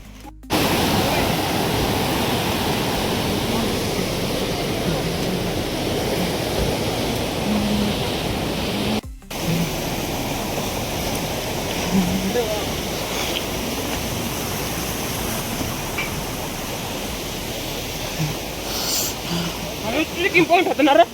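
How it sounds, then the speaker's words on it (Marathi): Lingmala waterfall near Mahabaleshwar roars as a steady, dense rush of falling water, loud and close, continuing without a break for about twenty seconds apart from one brief cut. "लिंगामळ्या धबधब्याला जायचंय"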